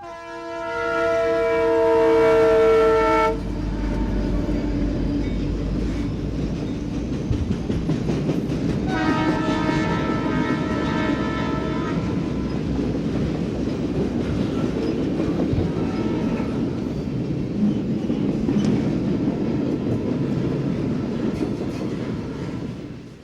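An eastbound intermodal freight train on a short line at 3 a.m. sounds its horn in long blasts, then rolls past with a continuous heavy rumble, rattling cars and a second horn call.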